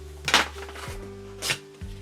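A cardboard box for a Canon RF 16mm f2.8 STM lens being opened, with two quiet, brief papery rustles and soft taps close by, separated by a pause.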